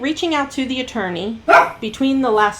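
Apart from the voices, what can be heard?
dog barking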